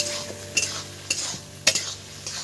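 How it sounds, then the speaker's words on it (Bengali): Taro and lote fish curry being stirred in a pan, with a metal spoon scraping and clinking against the pan three or four times over a steady low sizzle, close up and without talk. "এবার বেশ কিছুক্ষণ একটু নেড়ে চেড়ে নেবো।"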